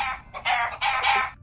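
Chickens in the Roblox game Feather Family, a run of bright clucking and squawking calls in three or four bursts, close and moderately loud, with no talk.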